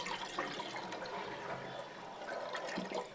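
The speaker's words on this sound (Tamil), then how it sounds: "மினிமம் த்ரீ டைம்ஸ் நல்லா வாஷ் பண்ணிக்கோங்க அப்போ தான் நல்லாயிருக்கும்" Split yellow lentils (dal) are swished and rinsed in water, giving a soft, continuous splashing and sloshing close by, fairly quiet, with no voices.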